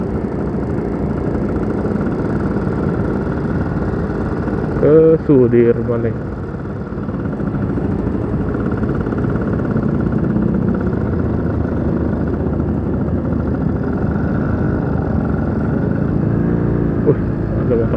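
Custom-built motorcycle engine running steadily while riding on a city street, a continuous low drone under a rider's nearby talking, with a brief passing horn or vehicle tone midway.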